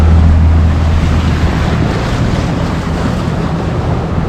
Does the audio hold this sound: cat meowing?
no